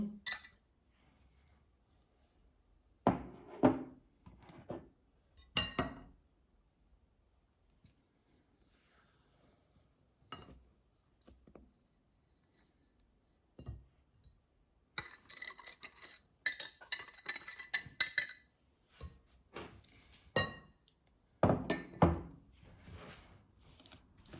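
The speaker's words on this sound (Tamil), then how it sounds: "இப்போ பீட் பண்ணுவோம்." Butter being beaten in a bowl for peanut cookies in a home kitchen, heard as bursts of clinking and scraping utensil strokes against the bowl, with quiet gaps between the bursts and no talking.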